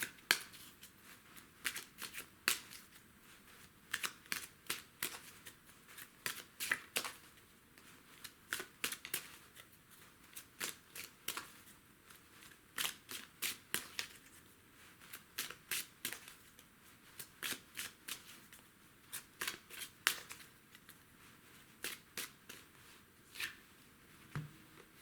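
A Lenormand card deck is shuffled again and again, giving crisp, close riffling bursts in quick irregular clusters across a quiet background.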